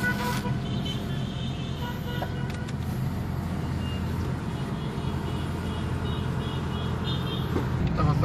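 A Honda Fit engine, recently treated for an overheating problem, runs steadily after starting, a constant low hum and rumble that carries on unbroken and moderately loud throughout, with faint traffic-like noise mixed in.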